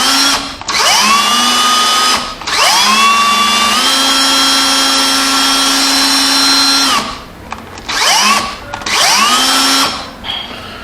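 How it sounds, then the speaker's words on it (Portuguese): A repaired cordless electric screwdriver, long unused, runs in several loud bursts, each whine ramping up in pitch and holding steady before stopping abruptly, with short pauses between runs and no talking. "Deixa eu colocar ela para parafusar."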